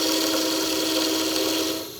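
Steady whirring hum of a wood lathe cutting an eighth-inch-wide groove in an offset candlestick, a continuous loud tone that tapers off slightly at the end.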